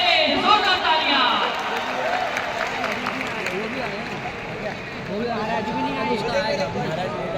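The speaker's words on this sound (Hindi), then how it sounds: "Sattu king one and only Nitesh Soni on the stage. जोरदार तालियां।" Applause and cheering from a large crowd of devotees at the Udgaar festival in Delhi's Indira Gandhi Arena as Sattu King Nitesh Soni comes on stage: a dense, sustained roar of clapping and crowd noise with voices mixed in throughout.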